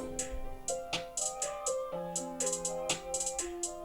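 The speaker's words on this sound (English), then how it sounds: "Then I just added a very simple snare." A simple snare hits in a steady pattern inside a mellow instrumental beat, with plucky melodic notes and crisp ticking hi-hats around it.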